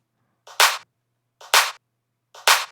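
Clap sample in a music production beat, with everything below 400 hertz cut by EQ: three crisp, bright claps at a steady, even spacing, each short and dry with silence between, heard alone.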